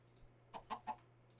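Three quick clucks from a Minecraft chicken in a video game, evenly spaced and clear over a low steady hum, with no talking.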